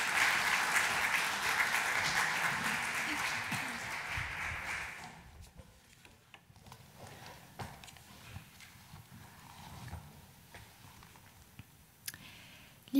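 Applause from a school graduation audience at an Abitur certificate ceremony, full and steady for about five seconds before it stops abruptly, leaving scattered clicks and faint room noise.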